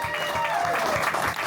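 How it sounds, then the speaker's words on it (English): Crowd applause at an outdoor Bike to Work Day gathering, a moderate, steady patter of many hands, with a voice speaking over it. "One more round of applause for our first time Bike to Work Day participants."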